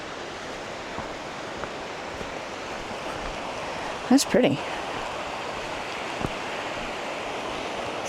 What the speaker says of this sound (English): It's kind of a rapid more than a waterfall.